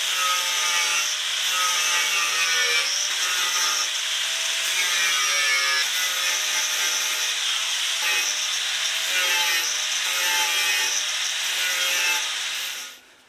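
Filler is sanded smooth on a Yamaha XJR1300 motorcycle fuel tank: steady, rhythmic back-and-forth rasping strokes, close and fairly loud, repeating for several seconds before stopping abruptly at the end.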